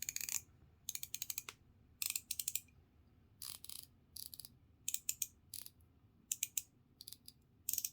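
Bursts of rapid clicking from 1/4-inch drive T-handle ratchets with differing tooth counts, a dozen or so short runs separated by brief pauses, close and crisp against a quiet background.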